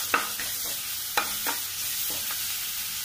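A vada pav spice paste mixture is stirred in a pan over a medium flame, with several scraping strokes over a continuous sizzle, close and moderately loud.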